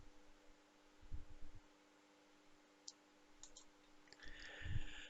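Computer mouse clicks while working in Fusion 360 CAD software, a few faint, sparse clicks spread across quiet room hum with no talking.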